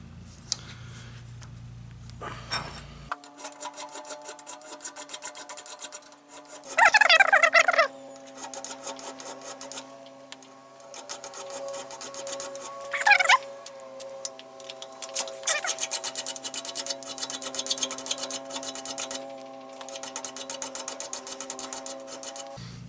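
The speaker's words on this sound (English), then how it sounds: "No sense in doing too much filing." A file rasps across aluminum fuel tank parts in repeated strokes, close and moderately loud, with short pauses between bursts and a couple of louder scraping passes.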